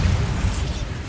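Bombarda spell blast in Hogwarts Legacy, a loud, heavy booming burst with a dense low rumble that fills the moment and tails off without any voice.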